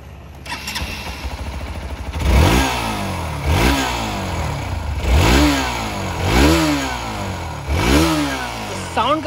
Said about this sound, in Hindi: मैं आपको सुना देता हूँ इसका एग्जॉस्ट नोट।